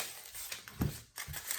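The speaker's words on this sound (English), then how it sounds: "I'm removing the parchment paper first" Parchment paper is peeled and crinkled off a sublimation photo mug, giving soft close rustling with a few brief crackling pulls and no talking.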